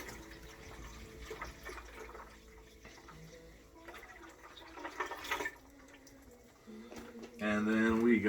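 Apple juice poured from a jug into a container for a moonshine mash: quiet handling and talking at first, then a gurgling, rising fill near the end as the liquid streams in.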